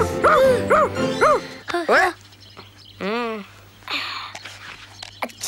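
A cartoon dog barks and yips in a run of quick, close, exaggerated barks with whimpering tones, separated by short pauses, loud and prominent over a low background hum.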